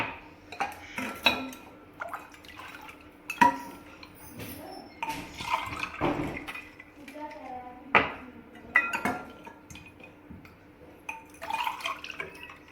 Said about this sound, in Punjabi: ਹੁਣ ਆਪਾਂ ਇਹਨੂੰ ਗਲਾਸ 'ਚ ਪਾ ਲੈਣਾ ਆ ਦੇਖੋ ਦੋ ਗਲਾਸ ਲਿੱਤੇ ਆ ਬਰਫ਼ ਆਪਾਂ ਪਾਈ ਹੋਈ ਹੈ